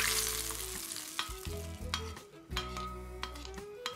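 Oil sizzles and crackles in a pan as fish fries, with a low hum underneath and a few light clinks and stirring sounds.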